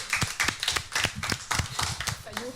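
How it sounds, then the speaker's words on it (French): Scattered, distinct hand claps from a small audience on a French TV quiz show, an uneven run of individual claps close by rather than a dense roar, with a brief voice near the end. "Est-ce qu'on peut re-applaudir un petit peu?"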